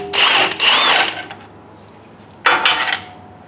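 Metallic clinks and rattles of a 15mm nut and bolt being worked loose on Camaro suspension, two bursts of clanking tool and hardware noise separated by a quiet pause, close by.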